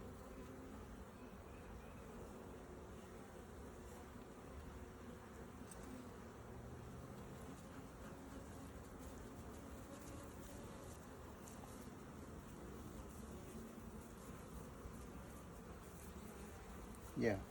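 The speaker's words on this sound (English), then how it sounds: "Look at those bees." Honeybees hum around an open hive during an inspection, a dense, continuous buzzing swarm close by that holds steady throughout with no pauses, ending in a single brief knock.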